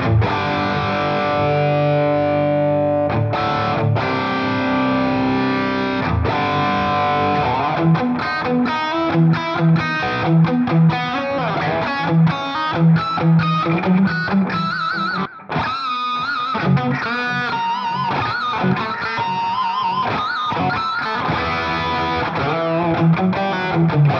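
Electric guitar with a scalloped fretboard, played through heavy distortion: sustained chords give way to fast, busy riffing and lead runs. It is loud and continuous, with no talking.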